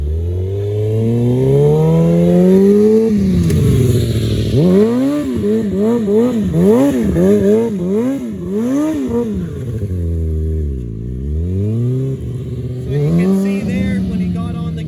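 A motorcycle drifts round in a circle, its engine revving up and down in repeated swells that rise and fall in pitch, loud and close with some clatter.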